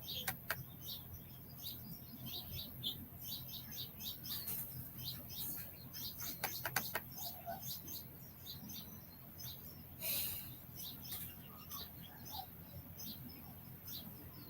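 Many small birds chirp and tweet around a bird seed feeder outside a tiny house in California, with rapid, overlapping calls continuing steadily at moderate distance.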